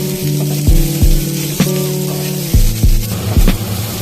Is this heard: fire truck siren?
no